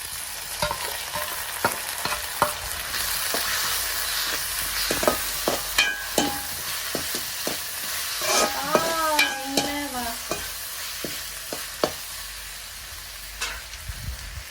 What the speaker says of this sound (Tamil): வெங்காயம் ஒரு பதத்துக்கு வந்துட்டு ஓகேவா அதுக்கப்புறம் வந்து இஞ்சி பூண்டு இஞ்சி பூண்டு மிக்சில் அரைச்சி போட போகிறேன்